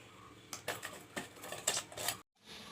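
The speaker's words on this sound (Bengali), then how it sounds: "গ্যাসে একটা কড়াই বসিয়ে দিয়েছি।" A metal wok (kadai) is set down on a gas stove in a home kitchen while hilsa fish head with pui shak is being prepared. Several close, sharp clanks and scrapes sound in quick succession, followed by a brief silence.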